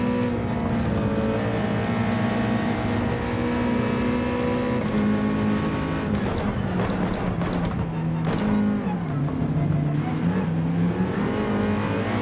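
GT3 race car engine in Gran Turismo 7, racing at Sardegna, holding a loud steady drone with rising and falling revs and gear shifts, close and continuous throughout with no talk over it.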